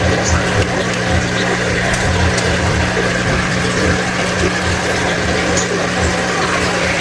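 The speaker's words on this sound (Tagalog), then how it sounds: "Tapos yung aerator natin, ayan, lumakas na siya kasi nalinisan ko rin. Malakas na yung buga ng hangin." An aquarium aerator air pump in a crayfish tub runs strongly after cleaning, a loud steady hum and bubbling hiss that stays constant and close throughout.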